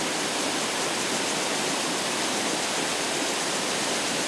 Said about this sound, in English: you'll see the spectacular Lucia Creek Waterfall splashing down from the